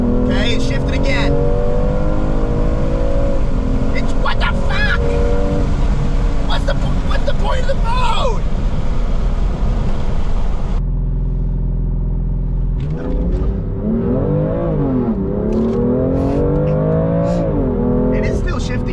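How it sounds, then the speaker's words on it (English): A BMW M2 Competition revs and accelerates hard during a drag race, engine pitch climbing and dropping through repeated shifts, loud and close, with people talking over the engine throughout. "Because now if I floor it, it literally will hit rev limiter."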